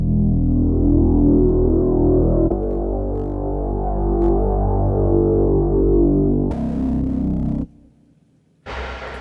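UVI Chroma Synth synthesizer from the Vintage Vault 4 collection plays sustained, dense chordal tones within a hybrid action cue, holding steady before a sudden bright shift, a brief drop-out, and a return.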